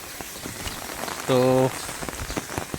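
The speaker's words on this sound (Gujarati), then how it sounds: "અને વરસાદ સારા પ્રમાણમાં છે" Monsoon rain in Shravan month patters steadily over a village, a dense hiss of drops throughout, with a brief tonal hum rising out of it near the middle and a single short spoken word.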